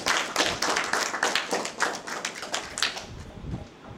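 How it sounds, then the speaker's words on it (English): Audience clapping during a talk, a few seconds of moderately loud, dense hand claps that gradually thin out and fade. "Give him a clap."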